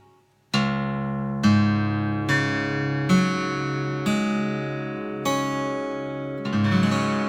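Acoustic guitar in DADGAD tuning lowered half a step, strings plucked one by one, six low ringing notes moving upward, each left to sustain into the next.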